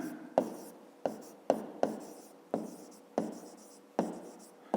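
Pen strokes of handwriting a math answer on paper for a fifth-grade division exercise, a close series of about eight short scratchy bursts in a steady rhythm, each starting sharply and trailing off, with no talk.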